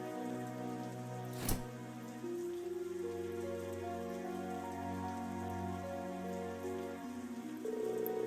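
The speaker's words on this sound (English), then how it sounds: "Looks like it's only sprinkling." Light rain sprinkles in the video game Trails of Cold Steel 3 at night, a soft, continuous patter of drops beneath layered background music, with one brief louder tap early on and no voices.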